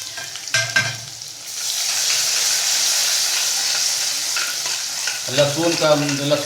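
Garlic hitting hot oil already crackling with mustard seeds and curry leaves gives a steady, loud frying sizzle, with a few stirring clatters near the start and end.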